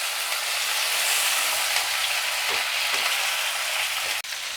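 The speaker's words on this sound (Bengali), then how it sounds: "সব দিয়ে একসঙ্গে এবার সাঁতলে নেব।" Vegetables and spices for a Bengali fish curry sautéing in a pan, a steady bright sizzle with a few soft stirring scrapes and one sharp tap near the end.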